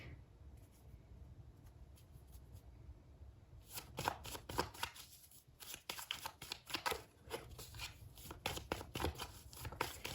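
Tarot cards being shuffled by hand, at first faint and sparse, then a long run of crisp, rapid riffling and flicking bursts up close, with no talking.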